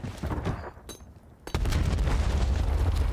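Frag grenade blasts in Call of Duty gameplay at a League Major IV qualifier match, heavy booming bursts with a brief lull, then a sustained loud rumbling roar.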